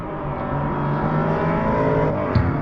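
A Lexus IS300 drift car races at Suika Circuit, its engine droning and revving in a sustained loud, buzzy roar with shifting pitch, heard from trackside.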